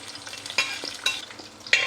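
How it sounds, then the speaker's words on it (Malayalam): Raisins frying in ghee in an indalium pan, a soft steady sizzle broken by three sharp scraping stirs of a spoon against the metal, close and fairly quiet with no voices. "കിസ്മിസ് വറുത്ത് മാറ്റി."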